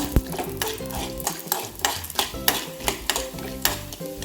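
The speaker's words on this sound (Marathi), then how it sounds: "परत अर्धा चमचा तेल घालूया यामध्ये आता अर्धी वाटी चणा डाळ घातलेली आहे ती थोडी परतूया" Half a bowl of chana dal is stirred in a little oil in a pan, with repeated close scraping and rattling strokes at a steady rhythm over a soft sizzle.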